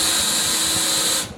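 A power drill with its clutch set low drives a one-inch flathead Phillips wood screw into soft pine. The loud, steady high whine runs close up and cuts off abruptly at the end.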